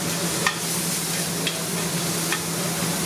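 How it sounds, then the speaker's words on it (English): Lardons fry in a pan with a steady, close, even sizzle. A few faint clinks from stirring come through over it, with no talking. "we can add in our lardons. And you're just gonna cook them until they're just crispy."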